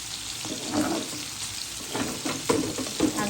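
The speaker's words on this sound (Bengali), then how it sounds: "ভালোভাবে হয়ে গেল করলা ভাজি" Bitter gourd fries in a pan, a continuous loud sizzle with occasional stirring swells and scrapes throughout.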